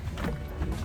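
Low rumble of a boat riding on calm early-morning sea off Karimunjawa, with steady water wash and faint wind, fairly close and continuous through a short moment, no voices.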